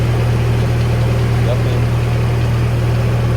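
A D21 engine idles after a repair, a loud, steady, even rumble holding without change throughout.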